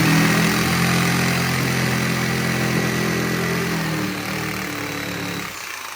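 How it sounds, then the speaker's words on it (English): A Craftsman jigsaw cutting out from knockout holes on a home addition project, a loud, steady motor drone with a buzzing hum that runs continuously and fades slightly toward the end, close by and with no talking. "Just start our jigsaw."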